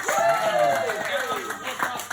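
Audience at a university stand-up comedy night claps for a performer: scattered, moderately loud applause with distinct individual claps, while a voice carries on over it.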